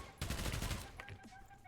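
A Gravekeeper SMG fires in a video game as a short rapid burst of close shots lasting about half a second, followed by fainter game sounds.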